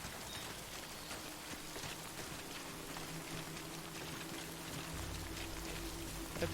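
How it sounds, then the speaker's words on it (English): Steady rainfall in the video game Death Stranding, a dense continuous patter of drops on surfaces, even and moderately loud throughout, with a low rumble swelling near the end. "Yeah, but now I'm getting rained on."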